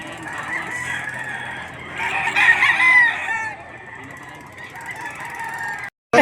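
A rooster crows loudly at a busy poultry market in Padre Garcia, Batangas, among other fowl clucking and honking, with crowd noise behind and a brief cut near the end.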